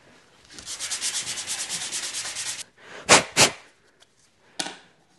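Rapid back-and-forth hand sanding on wood before countersinking screw holes for a doweling joint, a steady run of close rasping strokes followed by two sharp bursts and a final brief scrape.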